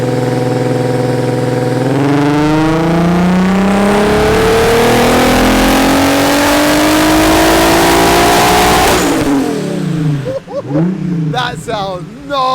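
A modified turbocharged car with wastegate boost control runs on a dyno, its engine loud and close, climbing steadily in pitch through a long pull before cutting off, followed by brief sputters and popping as it winds down.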